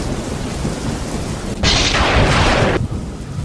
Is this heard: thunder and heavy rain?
yes